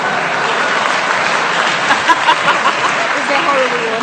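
Studio audience applause during a recording of the radio panel game Just A Minute: dense, steady clapping fills the whole stretch at close range, with a voice or two briefly mixed in.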